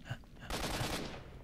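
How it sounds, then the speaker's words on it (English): Rapid automatic gunfire rattles through a wall in the video game STALKER, a dense burst starting abruptly and fading after about a second, muffled and heavy. "You can't shoot through the wall!"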